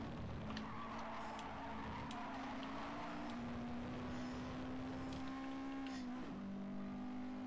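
A race car engine in a GT Sport daily race at the Austria circuit holds a steady, droning whine. Near the end the pitch drops suddenly as the car spins, with faint tyre noise and no voices.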